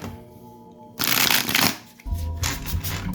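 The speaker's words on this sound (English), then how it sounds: "shuffle these and then we'll cut them." A deck of tarot cards gets riffled and shuffled at close range, with a quiet pause followed by two bursts of crisp, fluttering card noise, and a music bed plays softly underneath.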